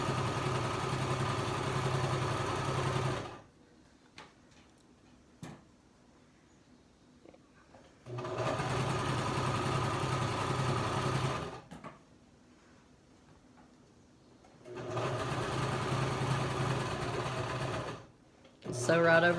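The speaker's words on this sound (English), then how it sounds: "I'm going to sew a seam really close to the edge." A sewing machine stitches a seam close to the edge of a folded fabric mask, sewing over pins, running in three steady bursts of about three to four seconds each with quiet pauses between.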